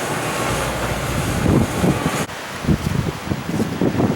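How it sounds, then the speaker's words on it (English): Steady roaring wind buffets the microphone, with low rumbling gusts surging and easing throughout, loud and close, with no voices. "they said it was going to be kind of windy this afternoon"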